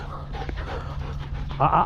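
Dogs pant in quick, close bursts among the vines of a vineyard, with a voice talking over them.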